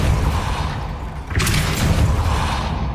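The Depulso spell is cast in the video game Hogwarts Legacy: a sudden forceful whoosh and boom cuts through low, rumbling game ambience, followed by a brief mechanical rattle.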